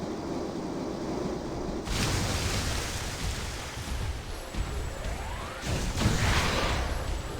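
A waterfall in the video game Metroid Other M gives off a constant rushing roar of water, dense and wind-like, swelling slightly in places and staying steady throughout with no voices.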